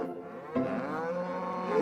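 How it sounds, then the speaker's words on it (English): Cattle mooing on a Scottish island, one long, close, drawn-out low moo that swells and wavers over about a second and a half, heard alone without talk. "The Meeson family have raised cattle on this island since the 17th century"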